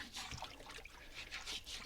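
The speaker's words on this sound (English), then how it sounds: "I'm just going to scrub that whole fish in the water here" A northern pike being scrubbed with a scrub brush in water gives a wet, splashy swishing and trickling that rises and falls in uneven strokes, close by, with no speech.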